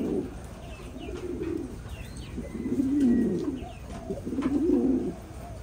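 Thai Titan meat pigeons coo in repeated low, throaty bursts, close and fairly loud, with faint chirps from other birds in the background.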